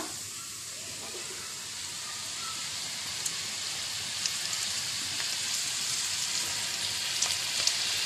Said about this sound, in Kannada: ಈಗ ನಮ್ದು ಎಣ್ಣೆ ಇಲ್ಲಿ ಕಾದಿದೆ, ಬಿಸಿ ಆಗಿದೆ. ಈಗ ನಾವು ರೆಡಿ ಮಾಡಿದ ಈ ಬೆಂಡೆಕಾಯನ್ನು ಹಾಕಿ ಬಿಡುವ.